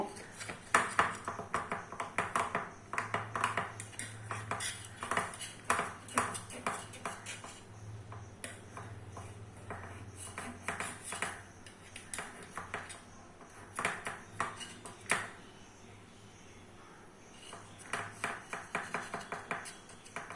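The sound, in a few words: knife loosening the sides of idli in a plate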